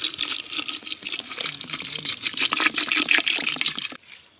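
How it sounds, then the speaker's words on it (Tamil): Water poured into goat intestine gravy in a pan, a steady close gushing splash lasting about four seconds before it stops abruptly. "தண்ணி சேர்த்துக்கலாம்."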